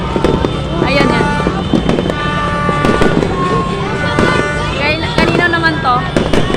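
New Year fireworks in Cotabato City pop and crackle in scattered bursts amid a noisy crowd, with people talking and shouting over the continuous background din.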